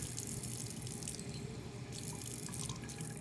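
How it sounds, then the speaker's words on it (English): Tap water runs steadily from a faucet into a lab beaker, a continuous close splashing stream lasting throughout without any talk. "I am adding 30 milliliters of tap water"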